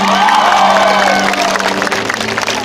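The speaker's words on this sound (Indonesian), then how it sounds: "Tepuk tangan." A large outdoor concert crowd at Lapangan Ombilin in Sawahlunto claps and cheers loudly and continuously, with whoops and shouts rising over a steady wash of noise throughout.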